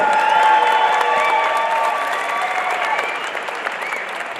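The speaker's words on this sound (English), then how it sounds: "let's get another big round of applause for these 2 competitors" A cage fighting crowd applauds and cheers two competitors after a three-round bout, a loud dense roar of clapping and shouts that gradually eases off.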